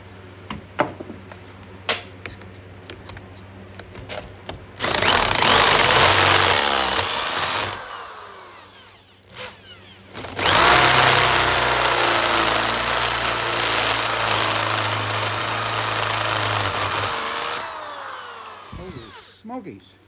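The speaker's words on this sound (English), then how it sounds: "I gotta still drill through the frame." A cordless power drill whines hard in two long bursts, grinding through the metal frame of a Land Rover Series 2a with a harsh, loud drone, separated by brief clicks and pauses.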